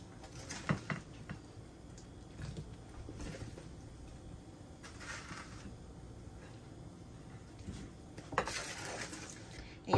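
Roasted vegetables, Brussels sprouts and garlic, are scooped from a pan into a serving dish, with scattered clinks and scrapes of a utensil against metal and ceramic at close range over a quiet room.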